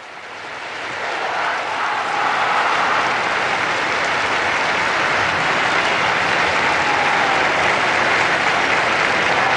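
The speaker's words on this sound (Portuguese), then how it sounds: "o aplauso e viva o Papa que brota da Praça São Pedro" A large outdoor crowd in St. Peter's Square applauds and cheers for the Pope in a sustained, dense roar that swells in the first seconds and holds steady, with no talking over it.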